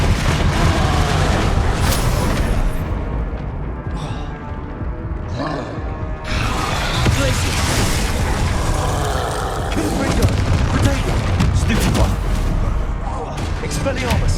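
Confringo blasting spells exploding in a Hogwarts Legacy duel: a string of booming, gunfire-like blasts and rumbles amid busy combat noise, with brief lulls between volleys.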